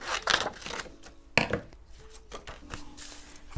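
Scissors roughly cutting through a paper window envelope make a few irregular crisp snips and rustles, close and fairly quiet, with one sharper cut midway and soft crinkling between.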